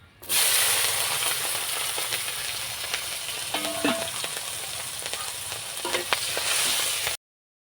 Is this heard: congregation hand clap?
no